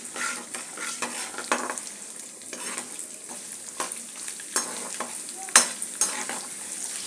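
Fenugreek seeds, mustard seeds, dried chillies and garlic frying in hot oil for a bitter gourd pickle, a steady close sizzle broken by repeated scraping stirs and a few sharper clinks, with no talking.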